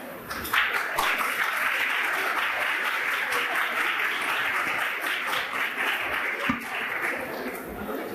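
An audience applauding at a talk on new anti-obesity therapies and muscle mass, a broad, steady wash of clapping from a sizeable crowd, somewhat distant and even in level for several seconds.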